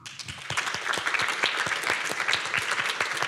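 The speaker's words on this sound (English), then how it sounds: "it's a big round of applause here" Audience in a conference room at the SPLASH 2023 programming conference applauds after a talk, dense steady clapping with distinct individual claps, moderately loud and without talking.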